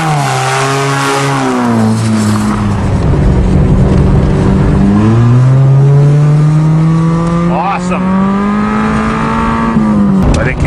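A 1997 Mazda car with a modified exhaust revs loudly and close, its engine tone rising and falling through long sweeping pulls with a raspy, droning note and a brief burst near the end.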